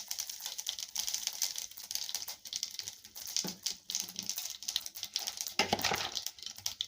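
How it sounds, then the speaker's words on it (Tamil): Mustard seeds spluttering in hot oil for mango pickle, giving a close, dense run of small irregular crackles and pops that comes in uneven bursts. "கடுகு இப்போ நல்லா பொரியுதுங்க."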